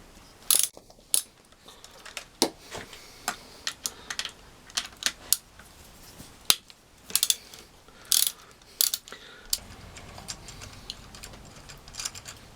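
Ratchet wrench loosening the rocker cover bolts on a Yamaha XJ400Z motorcycle engine, heard as bursts of sharp, close clicking with short pauses between strokes and no talk.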